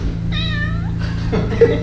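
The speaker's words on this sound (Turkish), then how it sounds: "Bu sokak kedisiydi." A street cat gives a single clear, drawn-out meow against a steady low hum. A brief rustle and a short sharp sound follow.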